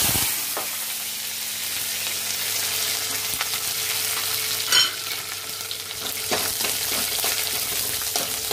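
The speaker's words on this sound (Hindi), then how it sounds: "जो हमने नमकीन बनाया है उसमें आज हम वघार डालेंगे करी पत्ता का" Curry leaves sizzle and crackle in hot oil for a tempering, a steady hiss of frying with brief pops and stirring, fairly close and without talk.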